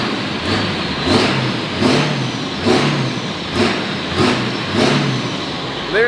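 A 23-year-old truck with a newly replaced fuel pump and a Banks tuner revs while driving, its mid-pitched engine swelling in about six repeated surges over a steady running drone, close and loud with no talking.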